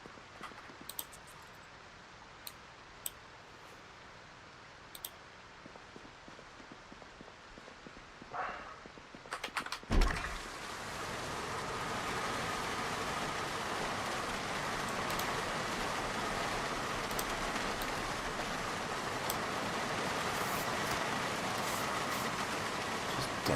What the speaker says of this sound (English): Downpouring rain.